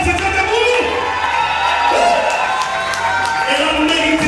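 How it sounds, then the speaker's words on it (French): Wedding guests clap and cheer in a continuous loud burst, with whoops and shouts rising over the applause and voices mixed in throughout. "Sous vos applaudissements"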